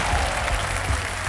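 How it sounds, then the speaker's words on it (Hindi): Studio audience applause welcoming contestants on a televised quiz show, a steady, full wash of clapping filling the whole stretch at close range with no talk over it. "मैं चाहता हूँ कि जोरदार तालियों के साथ उनका स्वागत किया जाए।"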